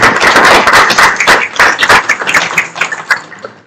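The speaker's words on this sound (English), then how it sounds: "I think they deserve a really great round of applause for that financial contribution." Audience applause at the ISRRT radiography congress in Bangkok, a burst of many hands clapping close and loud, with scattered individual claps and thuds thinning out toward the end.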